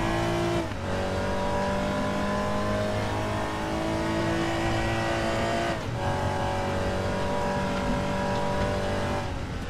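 A race car in the RaceRoom driving game holds a loud, steady engine drone close up, with two quick drops in revs as gears shift, continuous throughout.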